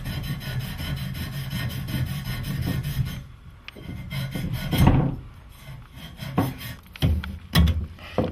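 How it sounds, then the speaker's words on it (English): Sanding cloth rubbed back and forth over a plumbing pipe to clean it before fitting, a steady close raspy scrubbing for about three seconds, then slower, uneven strokes with brief louder scrapes and pauses. "we're cleaning our pipe with our sanding cloth"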